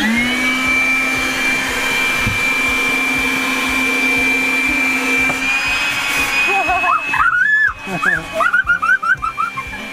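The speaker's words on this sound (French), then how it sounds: "Allume l'aspirateur." A vacuum cleaner aboard a Beneteau Oceanis 430 sailboat drones steadily and loudly, its high whine holding for several seconds before it cuts out, leaving higher-pitched voices and cries.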